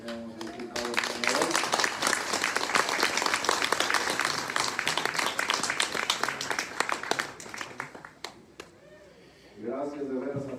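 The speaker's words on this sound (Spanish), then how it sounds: "yo quiero que también den un aplauso a la Virgencita." A crowd at a patron saint festival for the Virgin of Lourdes in Tamasopo, Mexico applauds loudly and steadily for several seconds, the clapping fading out near the end as a voice resumes speaking.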